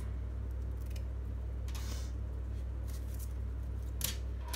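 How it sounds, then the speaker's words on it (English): Scissors snip paper strips for scrapbook embellishments in a few short, faint cuts close by, over a steady low hum. "I'm just going to cut all of these strips off"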